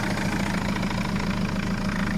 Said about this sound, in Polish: radosnego klekotania mojego silnika w tle